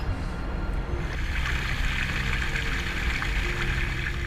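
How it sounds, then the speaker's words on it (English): Running water beside a camp in the mountains: a continuous, fairly soft rushing and burbling with no gaps, steady throughout. "I just love the sound of running water next to me when I'm sleeping at night."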